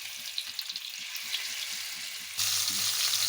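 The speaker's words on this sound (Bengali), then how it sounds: "তেল গরম হয়ে গেছে, এবার মাছগুলোকে ছেড়ে দেব" Small rohu fingerlings (chara pona fish) dropped into hot oil in a kadai, a steady sizzle with light crackles that swells louder near the end as more fish go in; no voices.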